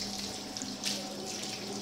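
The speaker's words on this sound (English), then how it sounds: "And when you're almost done, pour water on the tap." A tap runs steadily into a sink while hands are rinsed, a continuous close hiss of flowing water with slight splashing variations and no speech.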